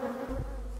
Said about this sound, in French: les abeilles sont à la recherche de la moindre goutte de miel